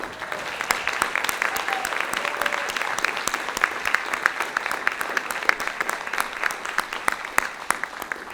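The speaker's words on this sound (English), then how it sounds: "let us give you one last round of applause" A round of applause for standing graduates at a Bush School of Government and Public Service graduation at Texas A&M, steady and full, with distinct sharp claps cutting through the crowd.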